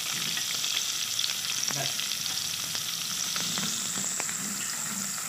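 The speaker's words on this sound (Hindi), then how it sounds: "प्याज को हल्का सा फ्राई किया" Onions fry lightly in a pan for a spicy cauliflower curry, giving a continuous close sizzle with intermittent scraping stirs; one brief word is spoken.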